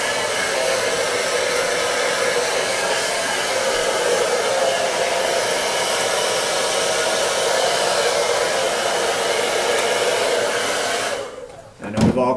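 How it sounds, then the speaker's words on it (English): A blow dryer blasts hair with a steady, loud, whooshing roar for over eleven seconds. It then cuts out briefly, followed by a short rustle, and comes back on. "Now, you can go in with your blow dryer again and create a little bit more randomness."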